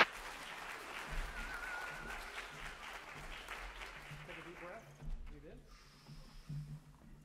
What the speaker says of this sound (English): let's give a round of applause to the Pell City High School Concert Band